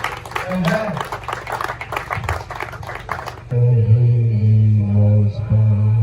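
A congregation claps at a church wake-keep service in Enugu State, Nigeria, with loud, rapid hand claps for about three seconds that then give way to a deep, amplified voice speaking over a sound system.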